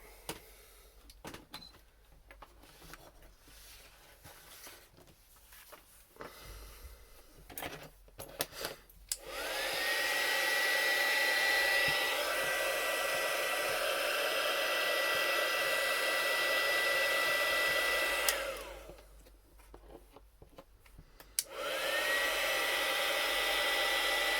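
Hair dryer blowing steadily to dry glue on a junk journal craft page, switched on for about ten seconds, cut off, then started again, loud and close with no talking.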